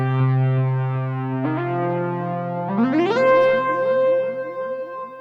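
A KORG Gadget Zeeon synthesizer plays on an iPad: sustained, rich tones with layered harmonics. Pitches shift in steps, and later notes gain a pulsing, echoing texture. It is loud and clear, with no talking.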